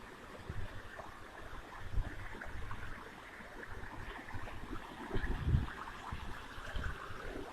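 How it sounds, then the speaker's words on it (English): Waterfall at Bocawina in Belize, a steady broadband rushing and splashing of falling water over rocks, moderately distant and fairly quiet, with no talk. "Here's the waterfall."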